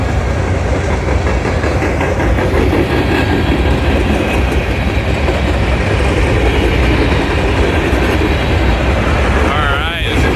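Freight locomotives, including an SD70, passing at a train meet near Enola: a loud, continuous roar of engines and rolling wagons with steady rumbling clatter close by for the whole stretch, and a brief squeal near the end.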